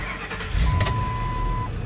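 A $1000 Ford F-250 pickup truck engine cranking and catching, with a steady rumble close by and a thin, sustained warning chime ringing over it for about a second.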